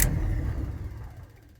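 Engine of a 1983 Chevy Scottsdale C10 squarebody half-ton pickup catching and running after a start, a loud, close rumble that steadily fades over a second and a half.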